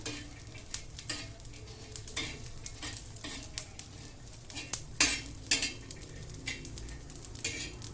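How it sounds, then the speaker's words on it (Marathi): Grated coconut roasting in oil in a pan, a continuous crackling sizzle broken by frequent metallic spoon scrapes and clinks against the pan, close and steady without talk. "खोबऱ्यात सुद्धा तेल टाकून भाजून घ्यायचंय आपल्याला"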